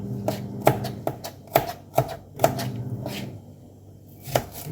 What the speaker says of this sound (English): Cutting up some garlic.